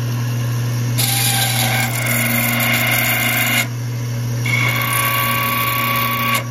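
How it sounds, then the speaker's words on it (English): A Wagner knurling wheel texturing tool presses against a wooden spinning top turning on a lathe, giving a steady close whirring, grinding drone that swells louder in two stretches as pressure is applied. "So this is the Wagner texturing tool. It's just a knurling wheel."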